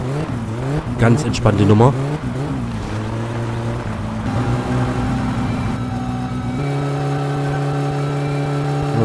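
A car engine in the driving game My Summer Car pulls away in first gear, its tone rising and falling between shifts and then settling into a steady drone, with someone talking over it.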